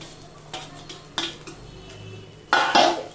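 A metal spoon stirs and scrapes vegetables and beaten eggs in a pan for leftover rice fry, with soft background stirring broken by a few sharp utensil clanks, the loudest near the end.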